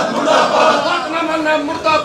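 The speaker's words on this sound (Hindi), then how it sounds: "सरकार के खिलाफ नारेबाजी करते हुए नजर आ रहे हैं।" Electricity board employees at a Karnal Sector 12 office chant protest slogans against the government as a crowd, a loud, continuous mass of raised voices with rising and falling shouts.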